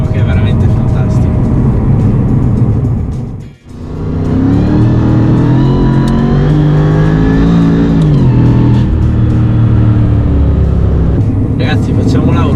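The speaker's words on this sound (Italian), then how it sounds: "da dentro senti questo possente vuoto e il rumore del compressore volumetrico che è veramente fantastico" A Mercedes-Benz SLR McLaren, heard from inside the cabin, gives a deep, loud, continuous engine drone with supercharger whine, rising and shifting in pitch as it pulls, with a brief sharp dip partway through and a voice talking over it.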